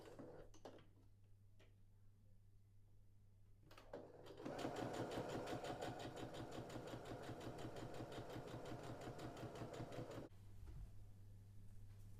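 A sewing machine stitches quilt block pieces together, running in one steady, loud burst of about six seconds after some quieter handling, then stopping.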